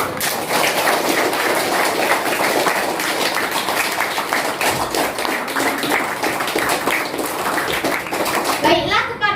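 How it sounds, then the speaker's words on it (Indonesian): Students in a sixth-grade class discussion applaud the speakers, brisk dense clapping from many hands lasting several seconds, with a few voices mixed in and a small clatter near the end. "Tepuk tangan dulu untuk para narasumber kita."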